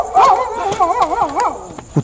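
Dogs outdoors at night around 2 a.m. give wavering, whining howls and yelps close by, overlapping continuously with a few short bark-like accents.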